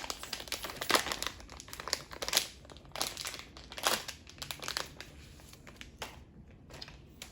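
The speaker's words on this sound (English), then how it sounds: "Now let's go ahead and open our Play-Doh air clay." Play-Doh air clay packaging is torn open and handled, giving close, crisp bursts of crinkling plastic that come in uneven clusters with short quieter gaps, no voice over them.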